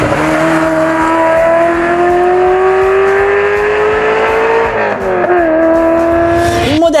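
A Ferrari 348 TB sports car engine runs close and loud in a steady, droning note. The pitch dips briefly, then climbs sharply in a quick rev at the end.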